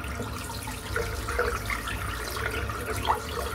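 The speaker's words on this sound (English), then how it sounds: "So I'm going to empty the sink out here. I may even just rinse the water through it to see if that helps." Water rinsing through a bathroom sink to flush away shaving residue after a head shave, a steady broadband wash of running water with small splashy peaks, close and moderately loud, no voices.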